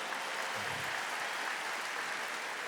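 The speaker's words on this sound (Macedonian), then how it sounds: "уште еден аплауз ве молам" Steady audience applause fills a concert hall at a music awards show, a dense, even wash of clapping at constant loudness throughout with no voices over it.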